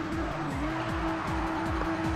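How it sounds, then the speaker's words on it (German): Car engine droning steadily in the Race Driver: GRID racing game while the car drifts, with tires squealing and skidding throughout, loud and continuous with repeated rising gear-like sweeps. "Sag mal, der Wagen driftet jetzt nur noch weg."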